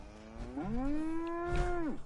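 A single long, drawn-out cow moo from the game Fallout 4 rises, holds steady and then falls away, loud and close.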